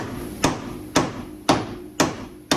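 A hammer strikes a tie rod on a 1994–97 Ford Aspire during a wheel bearing replacement, giving five sharp metallic blows at an even, roughly half-second pace, close and loud.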